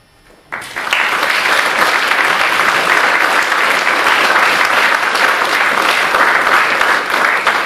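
Loud, sustained applause from a conference audience welcoming keynote speaker Edward Allen at BTES 2006, starting abruptly after a brief quiet moment and holding steady as a dense wash of clapping.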